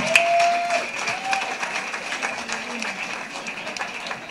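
Applause from a jazz band audience for a soloist at a live restaurant show, a moderate, steady patter of many hands under a sustained tonal hum, with brief faint voice-like tones early on.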